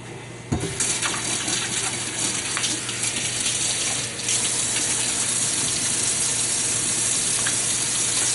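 Kitchen sink faucet running steadily while hands are washed, a continuous near gush of water with faint splashing, growing slightly louder partway through, no talk.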